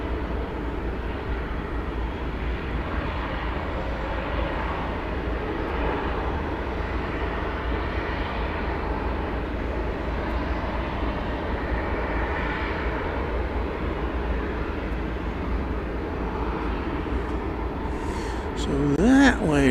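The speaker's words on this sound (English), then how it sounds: "this is a Cessna 208 Grand Caravan" Cessna 208 Grand Caravan turboprop operated by Martinair at DFW Airport, a steady broad engine roar held throughout at moderate distance, with a brief sharper noise near the end.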